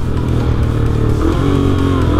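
Yamaha Fazer 250cc motorcycle with a Fortuna sport exhaust, revving loud and close: a steady throaty engine drone whose pitch rises and wavers as the throttle is worked.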